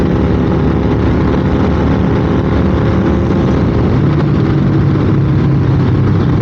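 Motorcycle engine pulling hard as the throttle is rolled on, a loud continuous roar steady across the whole stretch, with wind noise and no talk.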